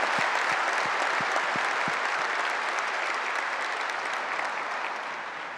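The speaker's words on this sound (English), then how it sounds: "So I'd like to give a round of applause to our partners" Audience at the NetApp Insight 2015 general session in Las Vegas applauding the partners, a dense sustained clapping with a few low thumps early that gradually tapers off near the end.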